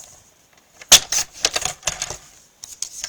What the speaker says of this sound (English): I'm going to trim off some of the parts that don't have much decor on them.